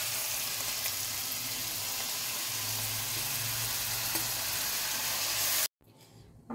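Mixed vegetables for veg biryani frying in a pan, a loud continuous sizzle and crackle with a low hum underneath, cutting off abruptly near the end.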